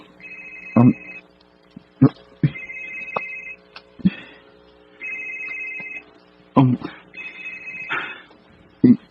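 A cellphone rings repeatedly in a Cebuano-language drama episode, its steady electronic tone recurring in bursts while voices talk between and over the rings.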